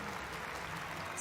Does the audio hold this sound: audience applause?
yes